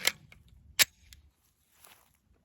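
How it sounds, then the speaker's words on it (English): A pistol fitted with a P80 magwell fires two sharp, loud shots during a magazine reload drill at a range, with a faint rustle and clatter of handling between the shots. "let's take a few shots, do some mag reloads here"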